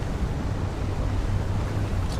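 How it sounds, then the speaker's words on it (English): A sand buggy drives across desert terrain in the video game Dune, a continuous low engine rumble mixed with rushing wind noise, steady and fairly loud with no talking. "Now I'm in the buggy."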